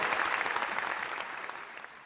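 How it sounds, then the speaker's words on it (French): Circus audience at a 2015 festival clapping after an act with horses and elephants, dense, continuous applause that gradually fades toward the end. "Applaudissements pour M. Casselli, les chevaux et les éléphants."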